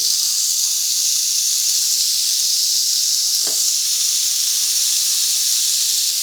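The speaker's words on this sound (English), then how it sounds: "we're going to go ahead and grill up our pineapple rings" Pineapple rings from a can, lightly sprayed with oil, sizzle on a Hamilton Beach indoor searing grill, giving a steady loud hiss that runs the whole time, with one short crackle partway through.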